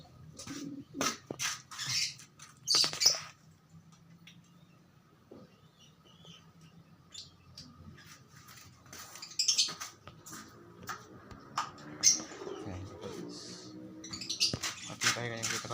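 Homing pigeons coo and rustle near at hand in short soft bursts with a few chirps, while a person talks over them at intervals.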